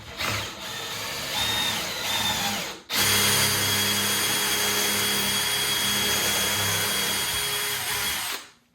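Impact drill driving a screw into a custom wooden bathroom vanity, two whirring bursts then a brief pause and a longer sustained drive, close and loud, no talk.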